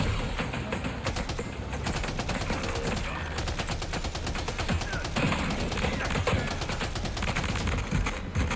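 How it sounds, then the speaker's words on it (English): Sustained machine gun fire from the video game Death Stranding 2, a dense, continuous rattle of rapid shots with impacts and thuds mixed in, loud and steady for the whole stretch with no talking. "Let's go for the machine gun."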